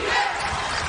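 Arena crowd at a women's college basketball game, California versus Stanford, cheering steadily as a player comes off the bench, with a dense, sustained roar and faint court sounds underneath.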